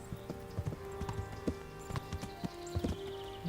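Horse hooves clip-clopping in the medieval game Kingdom Come: Deliverance, an irregular run of close, crisp hoof knocks at a walking pace over a faint steady background, with no talk.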